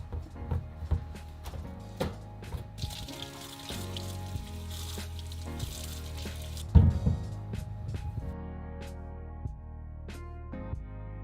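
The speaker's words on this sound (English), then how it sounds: "we might as well wash our potatoes at the same time that we wash all our vegetables" Potatoes and vegetables being washed in water together, with splashing, squishing and dripping sounds and irregular knocks and thuds of produce handled in a basin throughout, no talking.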